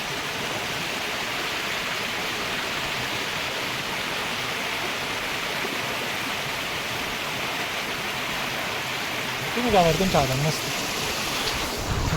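Floodwater from a sudden heavy downpour rushes down a village road in Khojewadi like a river, a constant broad roar. A few brief voices rise over it near the end.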